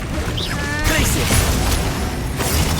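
Glacius ice spell in Hogwarts Legacy: a loud crackling, booming burst with rising whistling tones, set within busy battle noise and effects.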